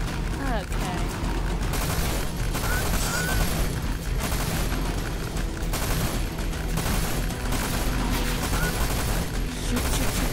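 Sustained gunfire from the video game Dirge of Cerberus, dense rapid bursts of shots layered over game effects and music, loud and continuous throughout.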